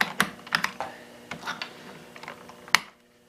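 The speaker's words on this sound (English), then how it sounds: "The keycaps, you can actually pull them off." Soft plastic clicks and clacks as a keycap is pulled from a 1993 IBM Model M buckling-spring keyboard, several quick taps and one sharper snap near the end, close and fairly quiet.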